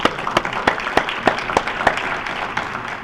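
Applause from a small audience at a state workforce development board meeting, a short burst of scattered individual claps, fairly close and alone.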